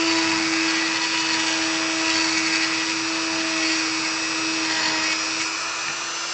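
A small rotary power tool whines at a steady high pitch while grinding plastic off a Star Wars Legion AT-ST model kit part, loud and close and running continuously with no voices.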